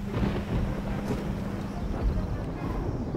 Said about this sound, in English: Is that thunder I hear?